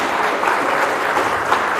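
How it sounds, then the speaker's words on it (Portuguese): Church congregation clapping during a Portuguese-language worship service, a dense, steady wash of applause from many hands at moderate loudness, with no voices standing out. "Você pode aplaudir o Senhor Jesus por essa palavra?"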